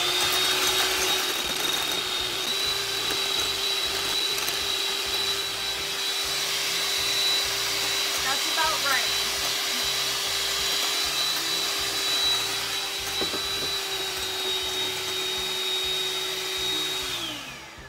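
An electric mixer whirs steadily as it beats keto marshmallow fluff with a scoop of protein powder, a continuous loud motor drone holding at one pitch for the whole stretch before winding down at the end, with no talking.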